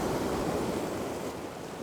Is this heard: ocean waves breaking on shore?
yes